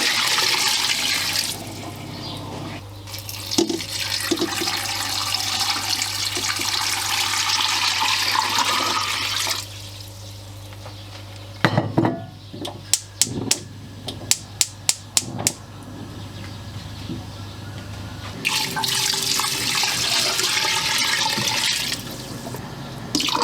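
Water runs steadily into large cooking pots, about four litres each, for a chicken bone broth, a continuous loud gush with a few brief knocks and clatters in the middle before the pouring resumes.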